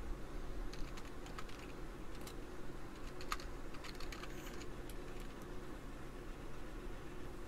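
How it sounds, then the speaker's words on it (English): Fast, close keystrokes on a computer keyboard, irregular bursts of clicking tapping out a MySQL command over a faint background hiss. "Now again, we type show databases."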